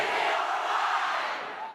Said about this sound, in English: The pep rally kicked off with cheerleaders guiding the classes in the victory cheer